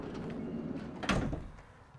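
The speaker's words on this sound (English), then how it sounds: "opening up the side door as well" Side door of a 2017 Ram ProMaster 2500 cargo van sliding open: a soft rolling rumble that ends in a single louder clunk as the door reaches its stop, heard close up.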